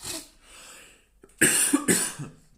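A person coughs from a dry throat, a few short close coughs and throat-clearing sounds in quick succession, alone without talk.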